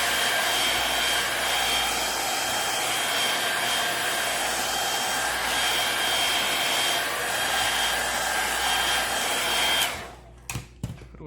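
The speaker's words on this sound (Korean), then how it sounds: "드라이기로 한번 말려볼게요." A hair dryer blows steadily on a Galaxy Tab S3 9.7 display assembly during repair, a loud constant whooshing roar for about ten seconds before it switches off, followed by a few faint handling knocks.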